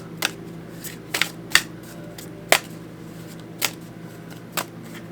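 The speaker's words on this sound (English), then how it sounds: "I'm also going to pull a rune card for you." Rune cards are shuffled and handled quietly, giving a handful of sharp, irregularly spaced clicks and rustles over a hushed room with no talking.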